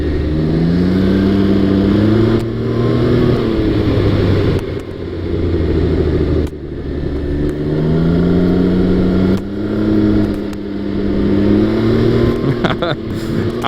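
A Can-Am Ryker three-wheeler's engine revving and accelerating in repeated surges with rising pitch, loud and close, while someone talks over it at times.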